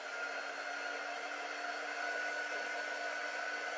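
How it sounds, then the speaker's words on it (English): A hair dryer runs steadily to dry a craft piece, giving a constant whirring blow with a whine and no break for the whole stretch, with no voices. "Now, I'm going to just dry it for a minute."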